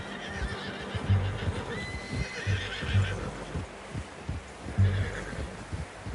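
Horse in a PS4 video game, a whinny and snorting over soft, rhythmic hoof clip-clops and low thumps, fairly quiet and mid-distance.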